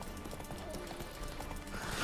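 Horse hooves gallop in The Witcher 3 video game, a quick, steady clip-clop rhythm that runs throughout, fairly faint and set within a dense wash of game ambience.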